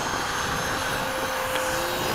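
An F-86 jet aircraft taking off produces a loud, steady, broadband engine roar and whine, continuous through the whole short stretch with no voices.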